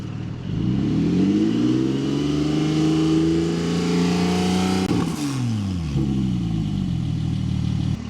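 A Porsche 718 Spyder with a Milltek exhaust, valves open, revs up steadily to a loud high pitch, drops sharply, then settles back toward idle, close and constant, with no talking.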